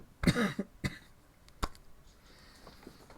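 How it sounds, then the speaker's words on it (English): A few sharp coughs up close, a heavy burst followed by single shorter coughs, with quiet pauses between them. "We're very close to getting past this cough."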